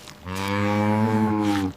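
A single cow lets out one long, full moo, close and clear, rising and holding steady before trailing off, alone with no talk around it.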